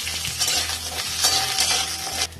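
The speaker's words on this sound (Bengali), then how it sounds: "কাঁচা পাকা লঙ্কা দিয়ে দিলাম, দিয়ে সজনে ডাঁটাগুলো দিয়ে দেবো তেলের মধ্যে।" Drumsticks with green and red chilies sizzle loudly in hot mustard oil, with a steady bright hiss broken by a few brief scraping stirs against the pan.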